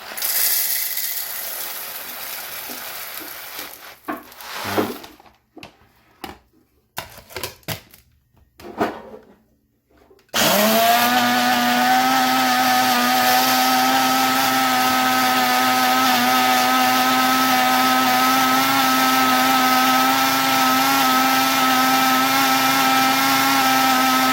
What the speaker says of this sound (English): Now we grind the whole thing up. We're going to use the entire 12-ounce pack.